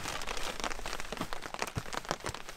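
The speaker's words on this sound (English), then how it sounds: "Listen to the rain." Rain pattering on a tent and tarp while camping, a dense, steady patter of drops close overhead with no voices.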